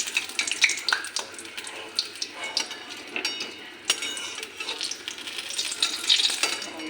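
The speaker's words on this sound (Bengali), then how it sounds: "গরম গরম বেগুন ভাজা" Eggplant slices frying in hot ghee in a pan, a steady crackling sizzle with occasional stirring and utensil scrapes, close and moderately loud.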